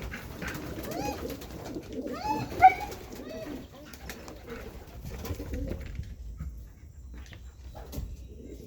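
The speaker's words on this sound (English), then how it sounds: "There's 3 pigeons outside right now" Several pigeons coo outside in soft rounded phrases, one louder call standing out near the middle, with background rustle and a faint dog sound, fairly close and no clear talking.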